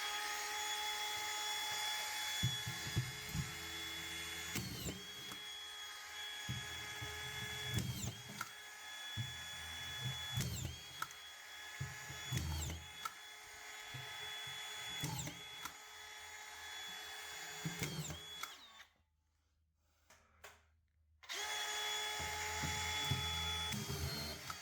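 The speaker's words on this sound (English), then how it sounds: "you can see there the wood stud and me firing the screws, no problems" A Dewalt DCF620 collated drywall screwgun driving screws into a wood stud, a high steady motor whine with repeated short whirring drive bursts and clacks, then a brief silence before the whine resumes.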